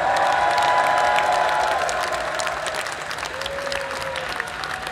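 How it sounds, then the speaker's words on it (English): Crowd at the Bloodstock Open Air 2016 metal festival clapping and cheering for a longtime head of security, a broad, steady wash of outdoor applause with faint whistles, gradually easing off. "Let's give him a big round of applause,"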